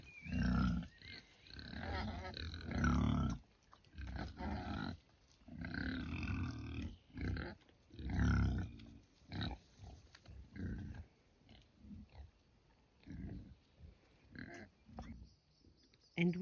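Pigs on an off-grid homestead grunt and oink in repeated bursts close by, loud snorting clusters separated by short pauses, with no speech.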